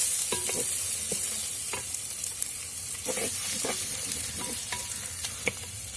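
Onions frying in an earthen pot, a hissing sizzle with intermittent scraping stirs and soft knocks of a spoon against the clay, near and moderately loud.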